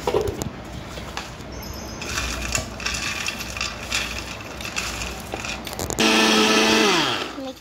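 A kitchen mixer grinder whirs loudly while grinding sesame seeds, its rattling motor running steadily for several seconds, then stopping abruptly before a brief higher whine at the end.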